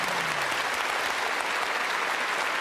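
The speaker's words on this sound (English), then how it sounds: "Well, yeah, you're applauding" A Top Gear studio audience claps in a dense, loud, even burst of applause that holds steady from start to finish.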